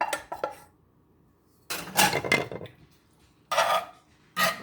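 Strained noodles dumped into a pan, a few scraping, clattering bursts of metal cookware and utensil contact separated by quiet pauses, close and fairly loud.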